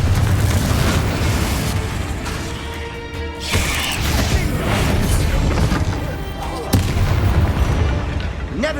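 Confringo fire spells go off in Hogwarts Legacy, landing as booming explosions over a continuous rumble of game effects. Several loud blasts follow one another, with sharper impacts near the middle and toward the end.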